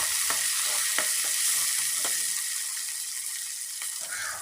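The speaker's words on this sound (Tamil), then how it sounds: "இப்போ சின்ன வெங்காயம் ஒரு நூறு கிராம் அளவில் சேர்த்துக்கலாம்" Small shallots frying in oil with popped mustard seeds for a garlic gravy, a loud, dense hiss of sizzling with a few faint stirring clicks, easing slightly toward the end.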